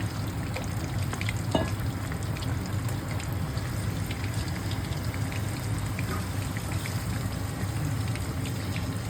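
Small anchovies fry in a pan with a steady, close crackling sizzle and scattered pops, continuous and fairly quiet with no talking.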